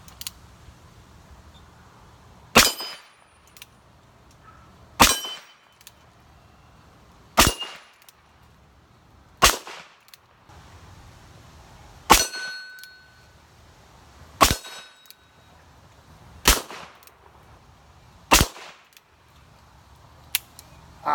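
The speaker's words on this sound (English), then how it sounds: "the first couple shots here, we're just gonna see where it's hitting." Eight sharp, loud shots from a Ruger Blackhawk Bisley .45 Colt revolver firing 255-grain semi-wadcutter bullets, spaced a couple of seconds apart, each a crisp crack with a short ringing tail, no talking in between.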